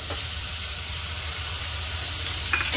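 Chopped tomatoes with green chillies frying in oil in a pan, a steady close sizzle with a brief stirring clatter near the end.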